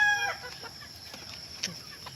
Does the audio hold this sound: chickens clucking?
yes